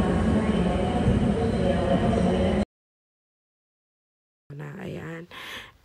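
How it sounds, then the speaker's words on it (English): Train and rail noise inside a station in Madrid, a loud steady rumble that cuts off abruptly into silence, followed by people talking. "Ito pala yung train station kapag pupunta ka outside Madrid."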